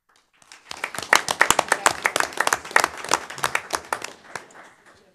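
An audience at a city council meeting breaks into applause, a burst of many hands clapping close by that swells quickly, holds for several seconds and fades out at the end.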